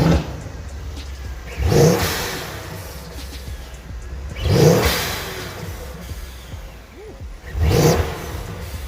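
A Mercedes C63 fitted with a VRP Speed intake revs repeatedly while parked, three sharp throttle blips rising and falling over a steady idle, close and loud with no talking.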